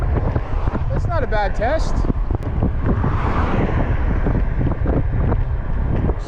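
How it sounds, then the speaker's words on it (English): Strong wind buffets the microphone while riding an e-bike outdoors, a steady low roar running through the whole stretch under a voice talking. "Wind's pretty strong right now, hitting us up pretty bad."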